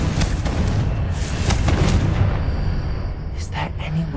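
A Confringo explosive spell blast in the Hogwarts Legacy video game booms amid steady game ambience, with a few sharp bursts and voices around it.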